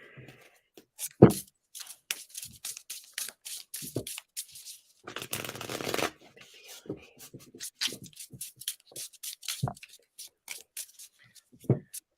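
Tarot cards are shuffled by hand in short, crisp bursts of riffling and sliding, with one longer riffle near the middle, while a person talks intermittently between the shuffles.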